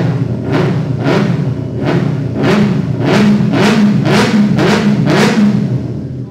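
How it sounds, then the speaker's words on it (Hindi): A Benelli 600i superbike engine revs repeatedly in loud, close bursts, roughly nine throttle blips in steady rhythm over a low idling rumble, with no voices. "तो भाई पहले तो ये आवाज़ सुनो बाइक"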